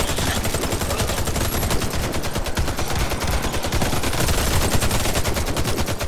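Rapid automatic gunfire in the Warface zombie mode video game crackles in dense continuous bursts, loud and sustained throughout with no pauses.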